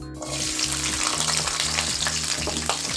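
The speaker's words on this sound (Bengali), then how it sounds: "এটা ভেজে নিব" Onion, green chili and garlic frying in oil in a wok, a dense continuous crackling sizzle close up, with low rhythmic scraping from stirring underneath.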